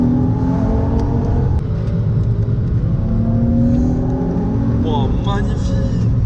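A Nissan 350Z convertible drives a mountain road, its engine droning loudly and steadily with pitch rising and falling through gear changes, while someone talks over the engine noise.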